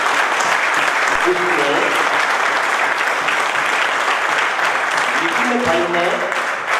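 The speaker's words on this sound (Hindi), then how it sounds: "जोरदार ताली बनती ही है आपकी" A crowd at a members' picnic gathering claps vigorously and continuously, loud and close, while someone speaks over the applause.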